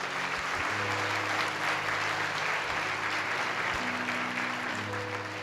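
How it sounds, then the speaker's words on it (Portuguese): A church congregation applauds at a Sunday service, steady dense clapping sustained throughout over a low organ or keyboard drone. "Vamos dar um aplauso a Jesus por isso?"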